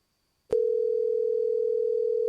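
After brief silence, a steady electronic phone tone begins abruptly and holds unbroken, a clean continuous beep on the line.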